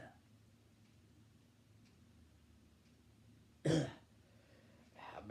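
A single sharp cough rings out clearly in a quiet room from a person who has been sick, followed by a fainter second cough, with soft breathing and low background hum around it.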